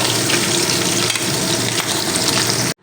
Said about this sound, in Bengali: মাছগুলো উল্টো পাল্টে বেশ লাল লাল করে ভেজে নিয়েছি